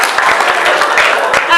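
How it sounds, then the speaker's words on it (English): Brief burst of audience applause at a college staff-versus-students debate, dense and steady clapping over about a second and a half, with some voices mixed into the noise. "I think she deserves a round of applause"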